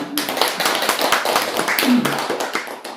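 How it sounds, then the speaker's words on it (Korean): Audience clapping at a Korean Buddhist Sunday dharma talk, a quick scatter of sharp hand claps spread across the room, near and fairly loud, with a bit of murmuring among the listeners. "박수 한번 쳐주세요"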